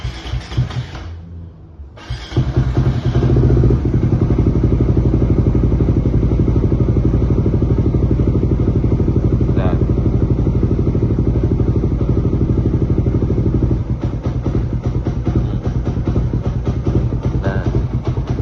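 A motorcycle fitted with an Aracer RC Mini X ECU with a rumble and backfire feature starts after a brief quiet moment, then idles loudly and close with a rough, steady, pulsing rumble and occasional crackles, with no talk.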